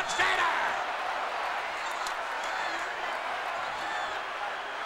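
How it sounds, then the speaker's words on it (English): Wrestling crowd at WWF King of the Ring 1996 roaring as Shawn Michaels is attacked: a dense, continuous wash of arena noise with scattered claps and shouts, steady and loud throughout. "This crowd going crazy."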